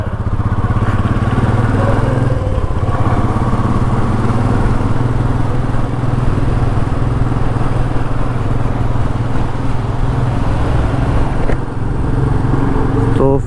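A motorcycle sets off on a road trip from Kolkata toward Purulia, its engine a steady, loud drone with constant road and wind rumble throughout.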